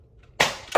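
A Zuru X-Shot Kickback blaster fires a suction cup dart, giving two sharp, loud pops close by with a short broadband burst, the second coming right after the first.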